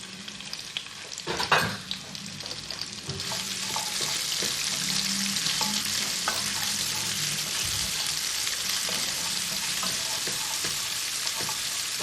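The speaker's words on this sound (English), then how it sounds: "Next, let's add our onions." Onions hitting a hot pan of garlic for a South Indian spiced lentil dahl, with a loud burst as they drop in, then a steady, close sizzle and crackle with occasional stirring clinks.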